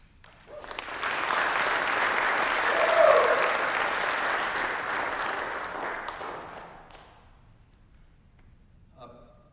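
An audience at the Minnesota Heart of the Arts award ceremony bursts into loud, sustained applause with some cheering, swelling for several seconds before tapering off into faint scattered claps.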